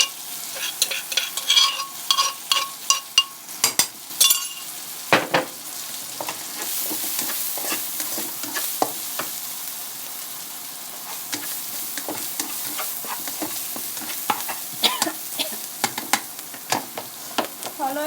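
Food sizzles steadily in a hot wok while a utensil scrapes and clatters repeatedly against the metal, stirring close by, as for stir-fried chicken breast with holy basil.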